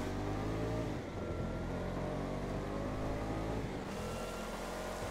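In-game car engine from DayZ, driven with throttle only and no brakes, a loud steady growl that dips briefly around the one- and four-second marks before rising again, with no talk over it.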